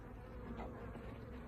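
Dark honey bees drone at an open hive in a continuous low, faint buzz, with no voices over it.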